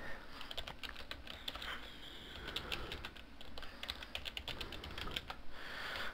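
Fast typing on a computer keyboard while logging in to a forum, a steady patter of close, crisp key clicks lasting several seconds over a soft room background.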